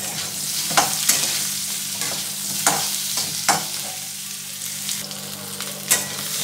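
Chopped onion and garlic fry with potatoes in a pan, a constant near sizzle broken by repeated scraping strokes of a spatula stirring the pan at an uneven rhythm.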